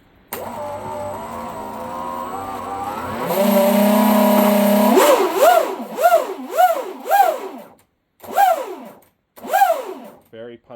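An electric motor on a TFL Zonda RC boat running XC-ESC WT200 controllers hums steadily, then revs in a series of sharp, rising whines that repeat in quick bursts, loud and close.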